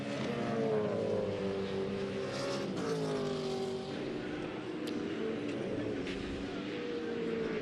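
V8 Supercars race at Barbagallo Raceway in Western Australia during the 2002 season, loud engines roaring continuously with rising and falling pitch as cars pass on the final lap, a commentator talking over them.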